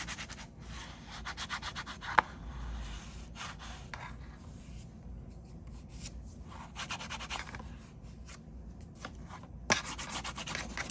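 A bone folder burnishes paper in a hand-bound journal, giving quiet, soft rubbing strokes close by with a few light taps, against a faint background.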